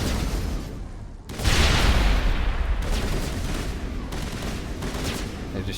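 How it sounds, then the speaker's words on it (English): Sustained gunfire in the video game Mass Effect, a dense rattling barrage of shots hitting a wall, loud and continuous with a brief dip before a heavier burst resumes. "They're just shooting at a wall there."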